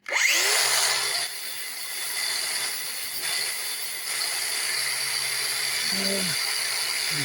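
An angle grinder grinds a metal knife blade in a home metal shop, starting with a loud spin-up and then holding a steady high-pitched whine and hiss. Its pitch shifts slightly as pressure changes, close and dominant, with no talking.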